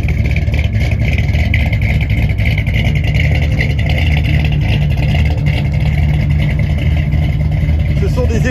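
A 1964 Mercury Marauder coupe idles through dual 2.5-inch Flowmaster exhausts, a loud, steady, close-up rumble that holds evenly from start to finish with no voices over it.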